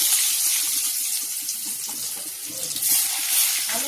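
Potatoes drop into hot oil in a pan, raising a loud, continuous bright sizzle that hisses steadily for the whole stretch with small crackling flickers.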